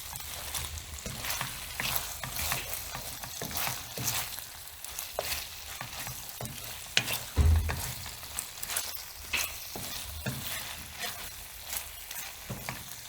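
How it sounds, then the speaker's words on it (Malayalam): Mongolian beef with chopped spring onion being stirred in a hot pan, a steady sizzle under repeated scraping strokes of a utensil, close and moderately quiet, with one heavier knock partway through. "ഇതും കൂടെ ചേർത്ത് നല്ലോണം മിക്സ് ചെയ്തെടുക്കാം"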